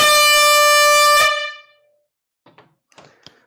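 A loud, sustained air horn blares for over a second at a live coin auction sale and then cuts off, followed by a few faint clicks and handling noises.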